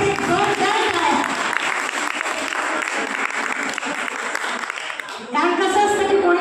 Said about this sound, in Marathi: प्लीज त्याच्यासाठी जोरदार टाळ्या.